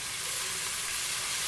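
Onion and garlic fry in a pan while being stirred, for a Brazilian beef-and-cassava stew. A steady, close sizzle carries on throughout, with a faint scrape of stirring near the end and no talk.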